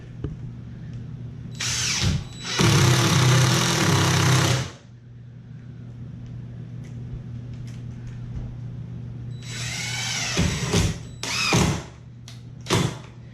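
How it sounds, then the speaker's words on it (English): A power drill drives screws during a house remodel, nearby and loud: a long whirring burst, a pause with steady background hum, then several shorter high-pitched bursts of drilling. "So I'm putting a screw in there and I'm letting it stick out a little bit."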